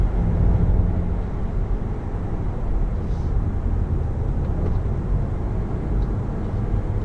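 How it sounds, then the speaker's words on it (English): A 2016 Volkswagen Golf GTI's turbocharged engine and exhaust drone steadily from inside the car while driving, a dense low rumble with road noise and no talk. "I love that you can hear the turbo spool up and you just feel that torque from the turbo."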